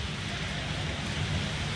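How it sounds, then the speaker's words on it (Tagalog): Heavy rain mixed with large hailstones pours down steadily outside by a vehicle, a dense, loud wash of noise with no clear separate impacts over the short stretch. "Ulan ng yelo."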